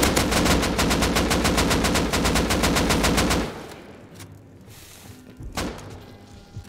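Rapid automatic gunfire from the video game Rust, a loud burst of evenly spaced shots for about three and a half seconds that cuts off, followed by quieter thuds and a single distant shot.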